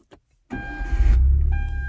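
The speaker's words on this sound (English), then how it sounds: "Car starts." A Genesis car with a stage 2 clutch is started by push button: a brief click, then the engine cranks and catches into a loud, close idle that settles into a steady rumble, with no talking.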